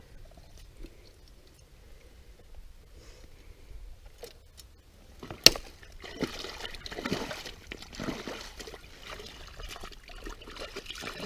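Hands pulling mud away in shallow water while setting a beaver trap in the woods: quiet trickling at first, then a burst of wet splashing and sloshing that carries on close to the microphone.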